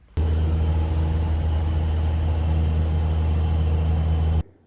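A seaplane on floats runs its engine while sitting on the water, a loud steady drone with deep low rumble that holds constant for about four seconds, then cuts off abruptly.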